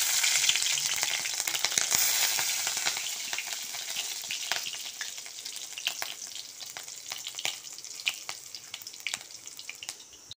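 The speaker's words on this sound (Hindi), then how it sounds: "तेल गरम हो चुका है, अभी मैं डालूंगी मिर्च।" Green chilies and ginger frying in hot oil for a paneer curry, a loud, bright sizzle that stays continuous and close, with crackles and pops scattered through it as it slowly settles.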